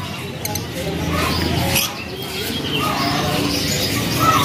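Busy chirping from many lovebirds in a kiosk at Pramuka bird market, steady and close, mixed with light background chatter and clatter.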